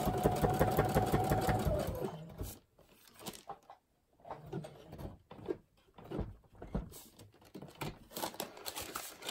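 Sewing machine running a zigzag stitch through a thick triple-folded fabric seam on a craft bag, a steady close motor whir for about two seconds, then irregular stop-start bursts of stitching and handling noise.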